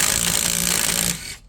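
An impact wrench hammers continuously at a wheel bolt on a 2017 Toyota Sienna during a brake job, a loud steady rattling burst for about a second before cutting off abruptly.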